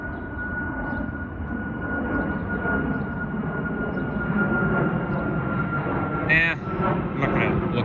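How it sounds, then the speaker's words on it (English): An airplane taking off from YYZ airport rumbles as a steady, broad engine roar heard from a riverside trail, with people talking over it outdoors. "And here comes another airplane, and it's taking off from YYZ"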